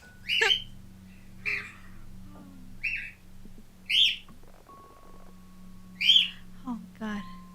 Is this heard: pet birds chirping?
yes